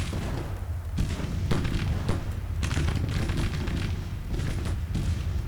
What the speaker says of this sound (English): Artillery continuing to working on these troops over here.